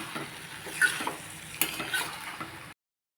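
Boiled pasta gently sautéed and stirred in a pan, a soft sizzle with scraping and light utensil knocks against the pan, close but quiet, ending abruptly in silence.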